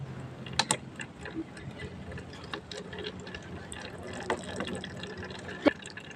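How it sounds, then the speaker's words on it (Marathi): Water drips in scattered small plinks and ticks from one bottle into another in a drip irrigation setup for plants, irregular and close, over a quiet background with a faint low hum. "एका बॉटलमधून दुसऱ्या बॉटलमध्ये असे हे पाणी जात आहे अशा प्रकारे हे पाणी झाडांना पोहोचत आहे थेंब थेंब स्वरूपात"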